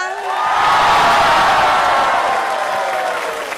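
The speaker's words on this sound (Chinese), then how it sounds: "掌声应该热烈点个" A stage audience at a Chinese music variety show claps and cheers, a loud sustained wash of applause that swells and then slowly fades.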